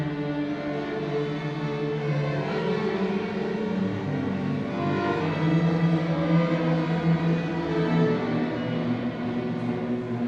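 A piece of music played with one note in every ten deliberately missed, a continuous sustained, harmonic ensemble texture running steadily for about ten seconds with no voices.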